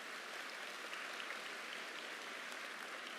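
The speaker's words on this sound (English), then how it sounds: "Please give them a round of applause." Parents at a John Marshall High School graduation ceremony receive a round of applause, an even, continuous patter of many hands heard somewhat faint and distant.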